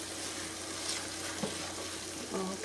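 Shrimp and grits cook in a pan, New Orleans style, with a quiet, steady sizzle and faint bubbling heard up close at low volume, a few soft clinks and stirs, and no talking.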